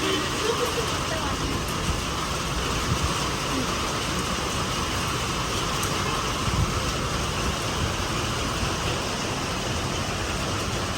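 Steady rain falls in Kadapa as a constant, even hiss throughout, with a voice talking over it.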